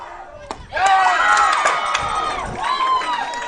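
Crowd at a Midwest City vs Noble regional championship baseball game erupts in a loud, sustained roar of shouts and cheers that swells, dips briefly, then rises again.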